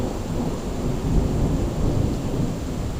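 Thunder during a heavy rainstorm: steady deep rumbling under a constant wash of rain, with swelling low rolls and no distinct sharp crack, continuous and fairly loud throughout.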